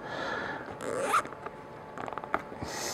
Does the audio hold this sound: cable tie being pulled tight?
yes